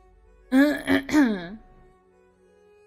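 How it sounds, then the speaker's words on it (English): A woman coughing and clearing her throat, three quick harsh rasping bursts in a row, close and fairly loud, then a short trailing breath into quiet. "coughing like she's on the hot ones"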